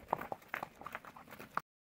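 Horse hooves clip-clop at a walking pace on a cattle drive between farms, a short run of distinct, fairly close hoof strikes in an uneven rhythm, quiet overall and ending abruptly.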